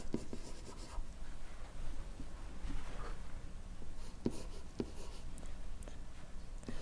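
Notes being written by hand, a continuous soft scratching of pen or pencil on paper with a few sharper taps, close and steady over low background hiss.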